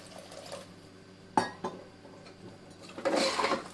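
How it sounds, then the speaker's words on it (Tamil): Clattering of a pot and utensils while water is poured into mutton curry masala with salt, chilli powder and turmeric, a sharp clank then a sloshing pour near the end, close and moderately loud with no talk. "இதே கறி வேகிற அளவுக்கு நம்ம தண்ணி ஊற்றிக்கோங்க"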